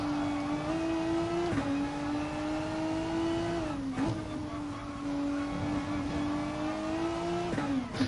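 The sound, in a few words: car engine driving in video game GT Sport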